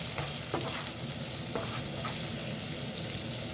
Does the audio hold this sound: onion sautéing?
yes